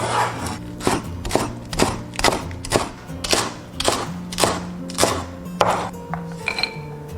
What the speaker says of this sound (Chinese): 切一些蒜苗备用